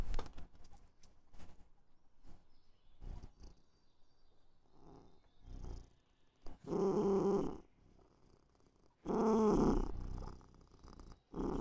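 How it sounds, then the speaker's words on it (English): A cat purrs in two long, loud, close bursts after scattered soft clicks and rustles, with quiet pauses between. "Is that a cat? Sure is."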